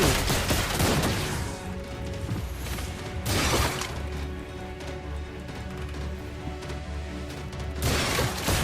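Gunfire bursts and shattering impacts from a Mobile Legends match, loud and clustered near the start and again mid-clip, over steady game music and ambient effects.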